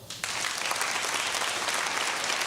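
Audience applause given as a show-of-hands vote bursts in suddenly after a brief quiet moment and stays as an even, continuous clatter of clapping to the end.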